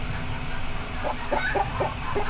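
A little chicken in modded Terraria clucks in a quick series of short, bright calls, four or five close together over a steady background hum of game audio.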